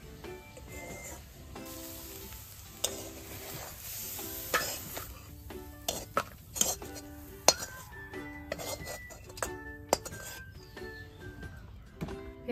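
Metal clinks and clanks ring out close by as a kadai is set back on the stove while making red lentil bhorta, scattered knocks with a few sharper taps over a quiet kitchen background.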